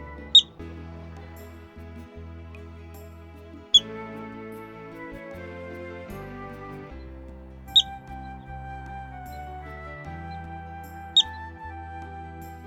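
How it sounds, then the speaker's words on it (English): A yellow-bellied marmot in the Rocky Mountains gives four short, sharp whistles, spaced several seconds apart, over soft background music. "Their whistles are a sound of the Rockies."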